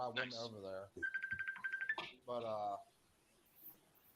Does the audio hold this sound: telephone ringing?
yes